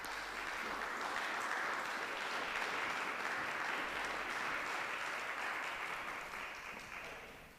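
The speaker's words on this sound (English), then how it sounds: "let's give them a round of applause" Sustained round of audience applause for presenters at a talk on teaching the Yazidi genocide, dense and steady clapping from a crowd that fades slightly toward the end.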